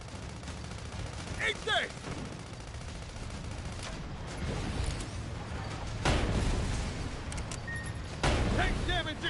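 Tank battle gunfire in the video game Sand Land, repeated cannon and gun blasts over a continuous rumbling battle bed, with people talking over the action.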